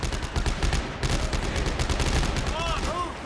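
Rapid, continuous bursts of plasma cutter fire in Dead Space 3, a dense rattling sequence of close shots with metallic ringing tones near the end, alongside speech-like sound.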